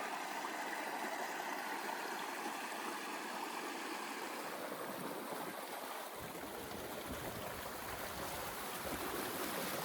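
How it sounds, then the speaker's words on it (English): A small water cascade tumbles through a rocky gorge, a steady broadband rush of falling water that stays continuous and fairly close throughout, with no voices. "Nice little cascade here."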